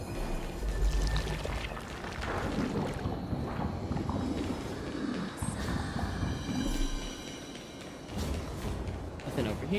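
A video game waterfall pours out a constant rushing wash of water, while a voice talks over it throughout.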